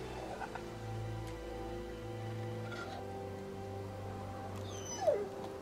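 Dogmeat, the dog in the video game The Walking Dead, whimpers softly over a steady low game hum, with a brief sharper whine near the end.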